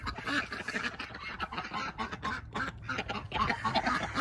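Ducks quack in a busy, overlapping chorus at a farmyard in winter, moderately faint and near, with irregular calls throughout.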